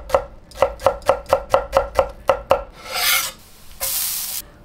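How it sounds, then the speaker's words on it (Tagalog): A knife chops an onion into small pieces on a board, ten evenly spaced sharp cuts in a quick rhythm, close and clear, followed by a couple of scraping, rustling sweeps. "Maghihiwa din tayo ng sibuyas at ihiwain din natin to ng maliliit."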